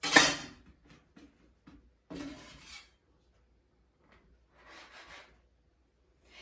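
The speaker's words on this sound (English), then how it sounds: "I'm going to use my food scraper to cut it into even sized shapes" Someone cuts yeast bread dough into even pieces with a food scraper. A few sharp scraping taps against the work surface are separated by quiet gaps, and the sound is close and fairly faint.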